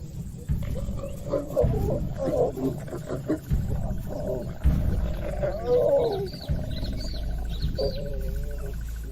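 Lions on the African savanna growl and roar in bursts during a tense standoff between two lionesses and a male, the calls near and uneven against a background of insects and birds.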